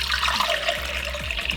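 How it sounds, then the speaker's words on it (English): Vegetable broth poured over dry textured vegetable protein for vegan burger patties, a steady liquid splashing and trickling sound running continuously for a moment, close and moderately loud with no talking. "So in with that, some vegetable broth."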